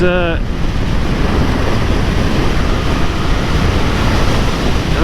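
Wind blasts roaring against a rider on a Suzuki GSX-1000GT motorcycle during a test ride, a loud, constant broadband rush with no break, briefly preceded by a faint tonal whine at the start.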